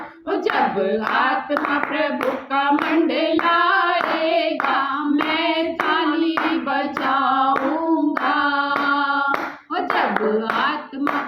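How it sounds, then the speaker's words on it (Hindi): A congregation at a women's ministry worship meeting claps hands in rhythm beneath loud, continuous group singing that dominates. "मैं ताली बजाऊंगा, मैं ताली बजाऊंगा दाऊद की तरह"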